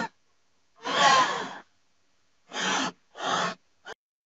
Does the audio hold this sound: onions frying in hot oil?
no